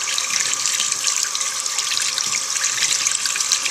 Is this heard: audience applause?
no